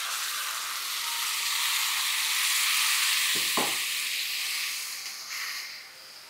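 Grated cucumber with its water hits hot tempering of mustard seeds, green chilli and turmeric, giving a steady loud sizzle with a couple of brief utensil knocks midway before it eases slightly at the end.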